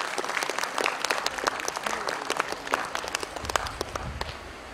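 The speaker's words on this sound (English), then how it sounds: "A huge round of applause to Ms." An audience at a career counselling session claps in a dense, sustained round of applause, many hands close and lively throughout with no voices standing out.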